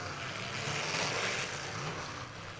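A steady engine roar from a demolition derby car, fairly distant, holding a broad sustained drone without clear rises, with no talk over it.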